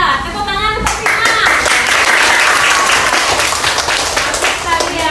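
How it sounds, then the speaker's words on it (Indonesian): A class of fifth-grade pupils claps together for a classmate, loud, dense applause filling the room throughout, with a teacher's voice speaking briefly at the start. "tepuk tangan untuk Rima"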